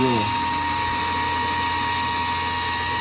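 A steady electric drill whirring continuously at close range, spinning a bent Toyota 2JZ engine valve, a constant high whine with a low motor hum underneath.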